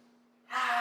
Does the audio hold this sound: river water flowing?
no